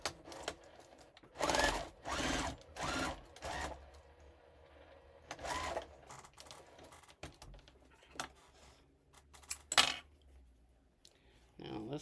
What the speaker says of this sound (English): I'm going to sew those together and then switch and go up.